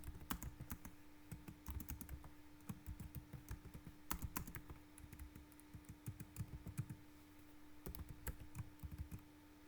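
Code being typed on a computer keyboard, irregular bursts of crisp close key clicks with brief pauses between runs of keystrokes, alone over a faint steady hum.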